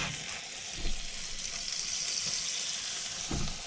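Bread frying in butter in a pan for a patty melt, a continuous soft sizzle and crackle at moderate level with a couple of low thumps, no one talking.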